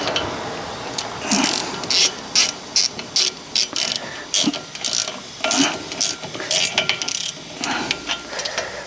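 A hand ratchet clicks in short repeated bursts, close and crisp, as brake caliper bolts are tightened on a Fiat Ducato motorhome van during a brake pad and disc replacement.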